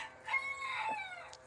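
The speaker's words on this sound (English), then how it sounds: "That guinea's chasing that hen." On a farm, a hen clucks and crows in short, near cries while guinea fowl chase her, with a bright sustained call in the middle and a quick squawk near the end.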